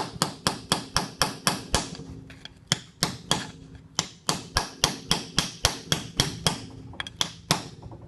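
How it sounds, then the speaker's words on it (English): A small hammer taps on a mini excavator final drive travel motor during a rebuild, giving sharp, close metallic knocks in quick rhythmic bursts of several strikes with short pauses between, alone without speech. "Just take a little hammer to give it a little tap."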